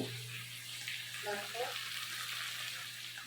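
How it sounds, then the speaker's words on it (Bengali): Meat sautéing in a pan for a curry, a steady broadband sizzle and hiss that holds throughout with a few faint stirring scrapes, no voices. "এবার আমি মাংসটাকে কষিয়ে নিচ্ছি।"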